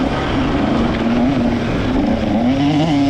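A small 125cc two-stroke KTM XC-W dirt bike revs hard during a hare scramble race, its buzzing engine wavering up and down in pitch as the rider works through the throttle, loud and close with no talking.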